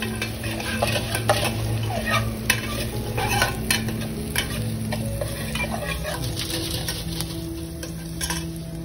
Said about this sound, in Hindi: त्यानंतर आपण घेतलेले अद्रक चांगलं फ्राय करतोय।